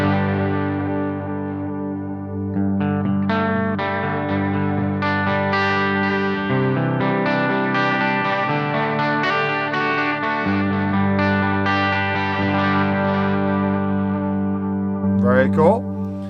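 Electric guitar played through a Headrush unit's virtual Princeton Reverb amp, clean sustained chords and single notes ringing with reverb, followed by a brief squeaky string scrape at the end.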